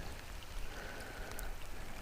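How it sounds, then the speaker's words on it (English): Rain falling by a lake during spring bass fishing, a soft steady patter of drops with a faint hiss, quiet and close with no talk. "Of course, the frickin' rain had to come."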